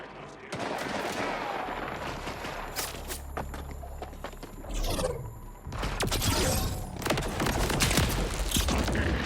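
In the Borderlands 4 video game, a weapon's alt fire launches energy discs, producing dense loud bursts of shots and impacts with sharp cracks and a rolling, crowded battle din.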